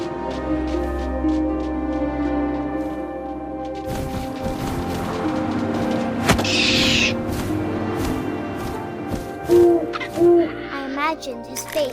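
Owl hoots sound in a narrative video game scene, a few clear calls rising over wind and ambient music, with soft rustling and a sharper impact midway.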